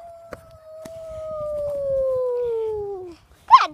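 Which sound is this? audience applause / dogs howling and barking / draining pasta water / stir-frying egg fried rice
dogs howling and barking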